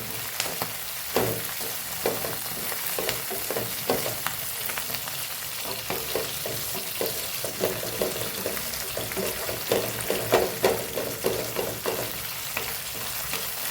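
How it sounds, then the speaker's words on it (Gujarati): Fenugreek (methi) leaves sautéing in a pan on a gas stove, giving a steady loud sizzle with frequent crackles and scraping stirs throughout. "અહીં આપણી મેથી સતળાઈ ગઈ છે"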